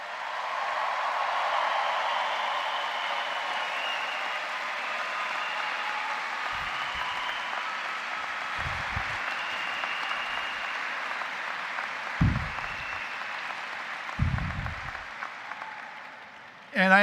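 A commencement audience at Boston College Law School applauds its graduates, a broad, steady wash of clapping that slowly fades, with a few low thumps near the end and a voice cutting in at the close.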